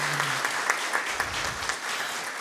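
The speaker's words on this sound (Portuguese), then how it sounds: "E uma salva de palmas para vocês." Applause fills a council chamber during an ordinary session, a steady mid-level patter of many hands clapping together for a couple of seconds.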